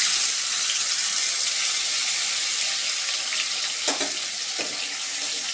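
Tomato, onion and green chilli paste spluttering in a hot oiled kadai, a bright continuous hiss and sizzle with a couple of sharp pops near the end, no speech.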